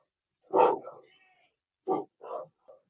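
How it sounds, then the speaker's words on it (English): A dog barks a few times, sharp and fairly close, with short gaps between the barks and otherwise quiet surroundings. "Dogs are barking in case you don't hear it."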